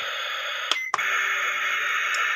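A steady electronic buzzing hiss from a toy kitchen stove's stir-fry sound button plays continuously, briefly broken by two clicks near the start before resuming at the same level.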